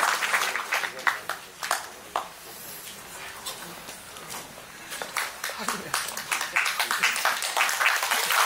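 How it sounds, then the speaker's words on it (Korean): An audience at a talk concert in Mapo applauds to welcome a speaker, with scattered, moderately loud clapping that continues steadily while voices talk over it. "큰 박수로 환영해 주십시오"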